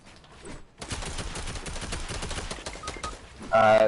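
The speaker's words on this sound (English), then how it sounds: "Who is shooting at me?" Rapid gunfire in Fortnite, dense crackling volleys of shots running continuously for several seconds, with a louder sound at the end.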